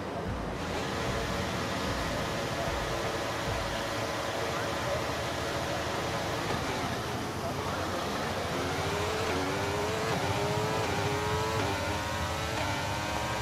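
Formula 1 cars in F1 23 roaring away from a race start, a dense loud engine wash with climbing pitch as gears shift, nearby and sustained.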